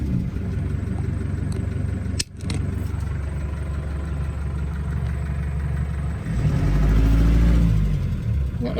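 Engine of a 30-plus-year-old ice cream van idling steadily and close, then revving up louder and deeper near the end, with no talk over it.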